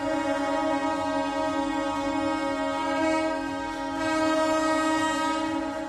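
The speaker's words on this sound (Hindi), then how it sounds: "सीएसटी रेलवे स्टेशन पर खड़ी लोकल ट्रेन को लोको पायलट ने हॉर्न बजाने शुरू किए।" A Mumbai local train's horn blows continuously at Mumbai CST (Chhatrapati Shivaji Maharaj Terminus) station on New Year, loud and sustained with steady harmonic tones throughout, no talking.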